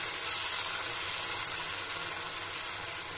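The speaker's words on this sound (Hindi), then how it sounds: "अब मैं उसमें टोमेटो की पेस्ट डाल रही हूँ। अब इसे भी अच्छी तरह से भून लो।" Tomato paste frying with onions in a pan for masala bhindi, a steady close sizzle running evenly throughout with no voices.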